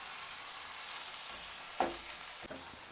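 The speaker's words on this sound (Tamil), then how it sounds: "இந்த தக்காளி ஒரு 1 மினிட் குக் ஆகணும்." Chopped tomatoes fry with onion and ginger garlic paste in a kadai for a paneer gravy, giving a soft steady sizzle with a couple of brief stirring scrapes near the end.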